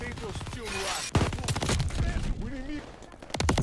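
Rapid bursts of gunfire in the video game Call of Duty: Vanguard crack in a quick volley, loud and close, mixed with voice-like game sounds.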